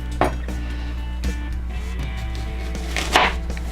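A knife chops through an onion on a cutting board while a spaghetti sauce is being prepared, giving a few sharp, close taps spaced out over a steady low hum.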